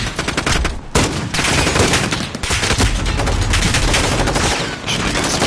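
Semi-automatic gunfire in the Modern Warfare video game, a steady run of loud, closely packed shots that continues almost without a break, one short lull near the start.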